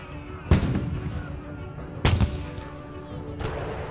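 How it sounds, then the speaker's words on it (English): Cannon fire at the 1757 siege of Fort William Henry: three sharp booming shots spaced about a second and a half apart, each with a short rumbling decay, the last one fainter and more distant. "which is 8 pieces of cannon, begin to shoot."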